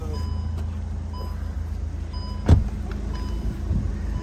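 A newly acquired car idles with its engine left running, a steady low rumble throughout, broken by a brief thump and faint intermittent beeps.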